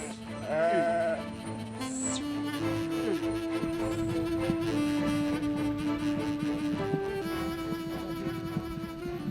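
Sheep bleat in a village, one loud call near the start followed by a long, sustained wavering bleat over a busy background of other livestock sounds.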